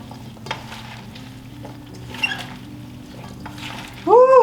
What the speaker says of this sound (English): we're just going to mix these together until that pepper paste is all mixed in